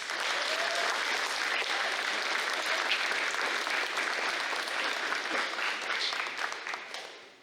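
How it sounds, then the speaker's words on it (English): An audience at an invention convention award ceremony applauds, a dense, steady clapping from many hands that holds at even loudness and tapers off at the end. "Please give a round of applause to Hudson Lawrence."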